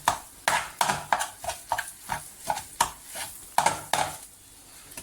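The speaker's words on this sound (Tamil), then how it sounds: "இப்போ நல்லா கொத்தியாச்சு." Metal spatulas chop egg kothu parotta on a hot griddle in a steady run of sharp, loud clanging strikes, roughly two per second, with a faint sizzle underneath.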